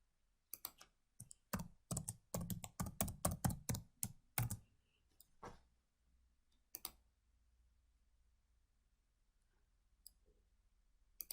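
Fast bursts of keystrokes on a computer keyboard for about four seconds while logging on, then a few scattered, isolated key taps over a quiet room background.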